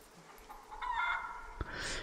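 Chicken clucking in the survival video game SCUM, a short run of mid-pitched clucks over low background ambience, fairly soft and alone.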